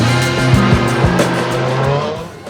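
A Suzuki Ignis Sport revs hard with traction control switched off, a steady engine drone and rising harmonic whine from the supercharger running loud and continuous, with tire chirps and revving pulses throughout.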